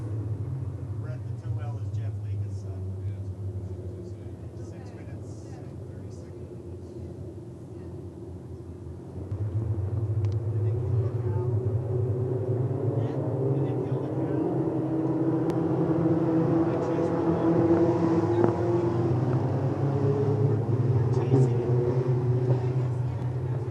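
Race cars circle Lincoln Speedway under a caution, a steady engine drone that swells louder partway through as the field passes nearer, under continuous announcer talk.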